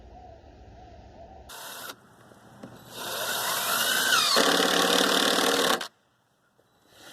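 A power driver drives screws into a metal joist hanger on a deck frame, rising into a loud, steady motor whine for a few seconds before stopping abruptly into quiet.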